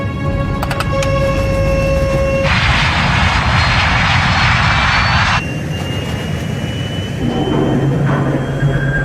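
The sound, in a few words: airliner jet engines at full throttle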